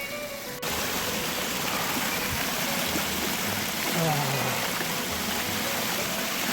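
Water runs freely through the town centre of Vilaflor in Tenerife, a steady, close rushing wash that fills the scene with little variation.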